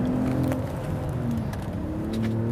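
A Mercedes GLE SUV engine pulls hard while overtaking another car on the road, a close, steady drone with rising tones as it accelerates.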